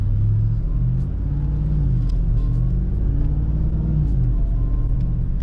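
A 6.2-liter V8 truck engine rumbles steadily up close, with a deep low-end drone and slight swells in revs, loud and continuous with no talking.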